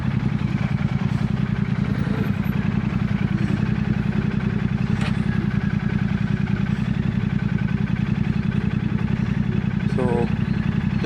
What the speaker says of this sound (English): that is one smooth bike